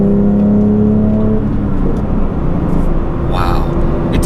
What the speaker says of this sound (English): It's very smooth, very fast revving engine.